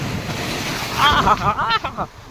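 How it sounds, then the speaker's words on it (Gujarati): Large sea waves rush and break against the shore at Mastram Beach under steady wind, while a person speaks excitedly over the surf. "હા જો ખતરનાક વેળ આવી રહી."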